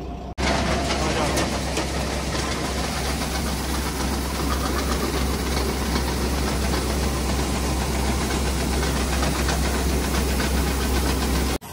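A combine harvester's engine runs in a paddy field, a loud, steady, close drone with a rough knocking vibration that continues unbroken for the whole stretch.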